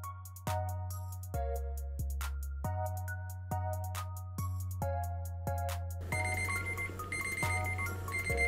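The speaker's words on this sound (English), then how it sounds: "I'm gonna go ahead and set a 5-minute timer." A bright electronic kitchen timer alarm beeps in repeated evenly spaced bursts, loud and close, with a busier ringing tone joining toward the end.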